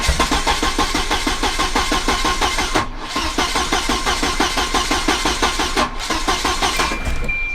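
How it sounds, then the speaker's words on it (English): A big turbocharged station wagon engine on a Microsquirt standalone engine management setup, cranking hard and chuffing as it tries to catch: a fast, steady rhythmic churn, loud and close, with two brief pauses and no talk. "See, you can hear it chuffing and trying."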